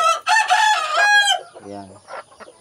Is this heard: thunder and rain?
no